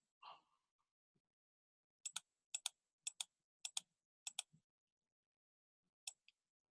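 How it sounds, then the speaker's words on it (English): Bursts of computer keyboard typing, several quick clusters of clicking keystrokes in a row, close and clear, following a brief breathy sound at the start, with no talking. "Yep, that's a lot of typing."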